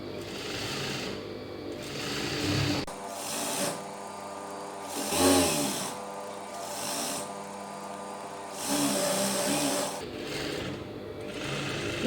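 A sewing machine stitches a lining into a blouse piece, running in steady bursts of even whirring with brief pauses between seams, close and alone without voices.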